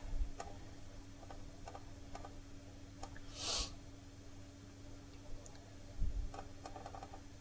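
A kitchen timer clock ticking softly and steadily in a home kitchen where sourdough bread is being baked, faint regular ticks with a few small handling noises and one louder brushing sound.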